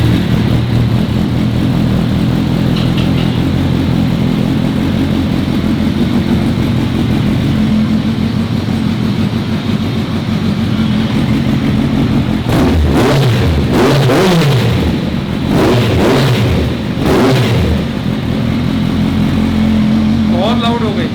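A Kawasaki Versys superbike engine runs steadily, then revs loudly in several sharp bursts over the back half, with people talking nearby over the engine.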